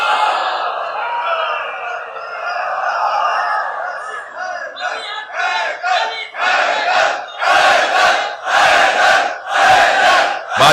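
A large crowd at a religious sermon chants salawat, blessings on Muhammad and his family, in loud, rhythmic unison, starting as a sustained collective intonation and breaking into forceful repeated phrases.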